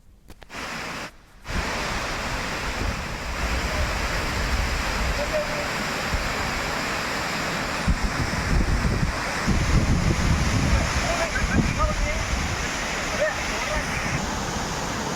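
Large waterfall in the Alluri area, its rushing water forming a continuous dense roar close to the microphone, with brief wind buffeting at the start.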